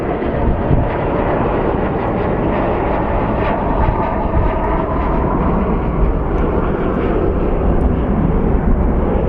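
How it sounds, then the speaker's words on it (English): A Guardian Air Pilatus turboprop coming in to land at Sky Harbor airport in Phoenix, a steady loud engine roar sustained throughout with no pauses. "here comes our Guardian Air Pilatus that's coming in for landing"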